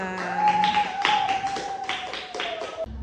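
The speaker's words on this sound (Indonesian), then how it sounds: "Tepuk tangan untuk kelompok 2." A classroom of students claps for a presentation group in a few short, ragged bursts, while a steady electronic tone hums underneath.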